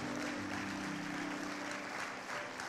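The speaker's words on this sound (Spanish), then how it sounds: "Yo no sé si le puedes dar un aplauso al Señor." A congregation applauding in church, a steady, fairly distant wash of clapping with a low sustained hum beneath it, even in level throughout.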